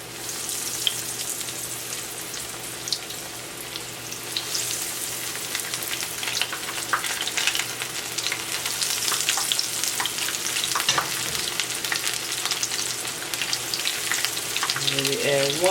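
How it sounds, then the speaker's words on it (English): Oyster mushroom pieces fry in hot oil in a pan, giving a steady, close crackling sizzle with scattered pops that grows slightly busier toward the end. "now these are going to fry for a couple of minutes per side until they're nice and golden brown and crispy."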